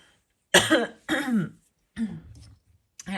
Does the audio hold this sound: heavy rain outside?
no